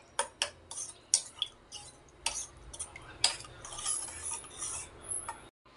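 Spoon clinking and scraping in a bowl while chili powder and oil are mixed for chicken fry, a close series of sharp taps followed by softer steady stirring.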